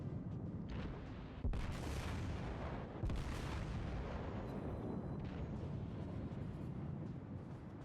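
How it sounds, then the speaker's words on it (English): The battleship Montana's main guns fire in World of Warships, heavy booming salvos with rolling rumbles at about 1.5 and 3 seconds, set against a constant low naval battle din. "I actually like the sound of the guns."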